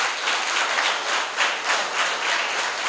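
An audience at a naturalisation ceremony gives the governor a round of applause, with dense steady clapping from many hands that swells slightly in waves and carries on throughout, moderately loud, with no voices over it.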